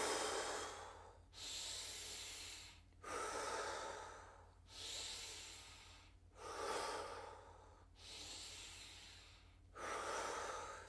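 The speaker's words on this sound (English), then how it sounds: "breathe in through the nose as high as you can. Breathe out through the mouth pretty much as far as you can" Deep breathing exercise, air drawn in through the nose and pushed out through the mouth, in six slow, even cycles of airy rushes separated by short pauses, close and alone.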